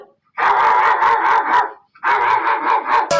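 A person mimics a dog barking in two loud, close bursts of rapid, rhythmic bark-like yelps, separated by a short pause.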